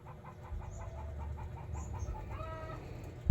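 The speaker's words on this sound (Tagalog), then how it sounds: "Hala, nagputak ang manok anak." A chicken clucks in a short series of repeated calls over a steady low rumble, fairly close and moderately loud.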